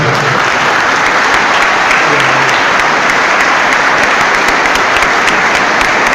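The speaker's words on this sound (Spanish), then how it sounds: "Recibamos al hermano con un fuerte aplauso." A church congregation welcomes a member with strong applause, a loud, sustained roar of many hands clapping that holds evenly throughout without pause.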